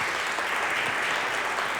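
A church congregation applauds during a service, a steady, even patter of many hands clapping at a moderate distance, sustained without pause for about two seconds with no voices on top.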